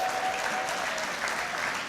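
Audience applauding members of the Limerick Senior Hurling team, a steady dense wash of clapping throughout at moderate level with no talk over it.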